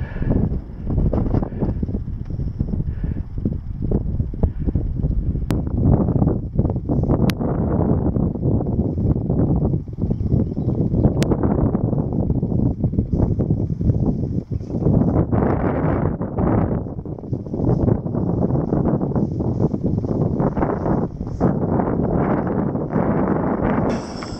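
Strong wind buffets a microphone outdoors at Blue Mounds State Park, Minnesota, a loud continuous roar that surges and eases in gusts, with no voices.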